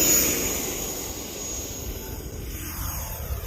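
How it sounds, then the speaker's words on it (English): An E-flite Viper 90mm EDF model jet takes off aggressively, its ducted fan giving a loud rushing whine that fades as the plane climbs away, with a continuous airy roar throughout. "I wanted to see what a little more aggressive takeoff would look like"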